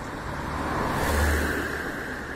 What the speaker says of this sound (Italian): interrotto dal rumore di macchine, di persone che si recano al lavoro